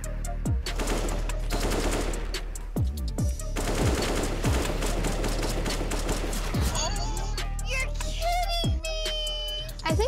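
AK47 fire in the video game Counter-Strike, rapid automatic bursts and single shots crackling in quick sequence, loud and close, with game sounds mixed in.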